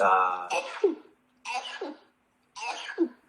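Three sharp, sudden nasal bursts spaced about a second apart, each a short explosive burst of breath, with quiet gaps between them.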